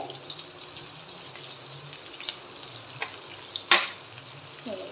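Sliced onions frying in hot oil for a paneer masala, a continuous close hiss of sizzling with a few light stirring clicks and one sharper clatter near the end.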